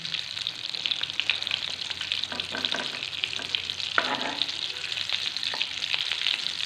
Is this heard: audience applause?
no